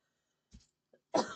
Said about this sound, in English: I hate it when a cough creeps up on you